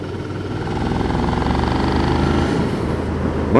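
A Suzuki SV650 V-twin motorcycle engine runs steadily while riding, a loud continuous drone with a throbbing low rumble and a slight rise in revs near the end.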